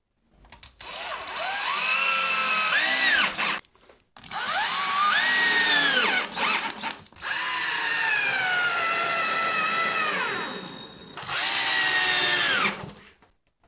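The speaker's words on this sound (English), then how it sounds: "And I'm just going to drill these holes, or drill these screws right in." A cordless power drill drives screws into the base of a Star Trek captain's chair, four separate whirring bursts that rise and fall in pitch as each screw seats, with short pauses between.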